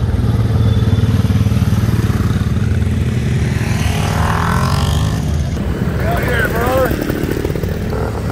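Small vintage Honda TL125 trials motorcycle engine idling and puttering close by at a vintage motorcycle race meet, a steady low rumble that runs throughout under background crowd noise and voices.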